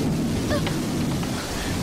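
Heavy storm noise fills the space, a dense roar of wind and rain with a low rumble underneath, steady and loud throughout.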